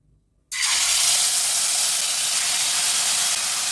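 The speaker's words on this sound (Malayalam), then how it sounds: "നമുക്കിതിലേക്ക് നമ്മൾ ഈ ഉടച്ച് വെച്ച ചേന ചേർക്കാം" Mashed elephant foot yam hits a hot pan for an Onam chena pradhaman and bursts into a loud, steady steam-like sizzle right after a short quiet start, continuing close and unbroken.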